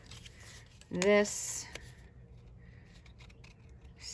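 Scissors snip through paper while cutting out a fish shape for a stamped underwater-scene card, one short crisp cut close up, surrounded by a person talking.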